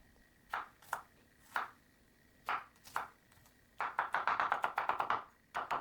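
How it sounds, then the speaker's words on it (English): A knife chops garlic on a board for a Bengali rohu fish curry. It starts with a few spaced single cuts, then breaks into a quick run of rhythmic chops that are close and crisp. "now I'm cutting the garlic"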